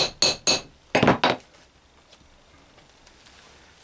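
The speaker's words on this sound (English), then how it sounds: "I'm just giving these a final hit down" Hammer blows flattening metal rivets on leather bag handles for a sisal basket, five sharp close strikes in two quick bursts, then quiet workshop background.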